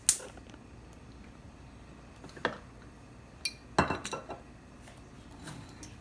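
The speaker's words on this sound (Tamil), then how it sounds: "கடாய் வைக்கிறோம்." A metal kadai, or wok, set down on a home stove while cooking prawn thokku, giving a few sharp metallic clinks and knocks at scattered moments against a quiet kitchen background.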